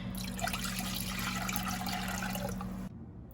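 Two cups of water pour into a cooking pot in a home kitchen, a steady rushing, splashing stream heard close for about three seconds before abruptly stopping, with a faint hum underneath.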